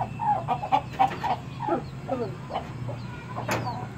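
Hens cluck and murmur nearby in short repeated notes over a low steady hum, with a sharper squawk near the end.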